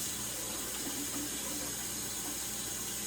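A kitchen tap runs steadily into a pot, a loud, even rushing of water that stays unchanged for three seconds with no speech.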